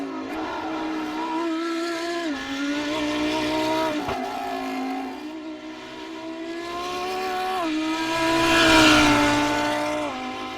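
A Lamborghini GT3 race car at Imola howls through gear changes as it slows down, its engine note stepping up and down in clear pitch shifts, loud and close.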